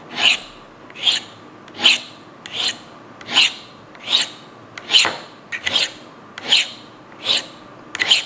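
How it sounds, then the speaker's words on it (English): A knife blade is drawn across a Lansky Turn Box sharpening stone in about eleven steady, evenly spaced rasping strokes. The sound is close and clear, with no talk. "So while you're sharpening, if it gets really dark, just rotate your stone a little bit so you get a fresh spot."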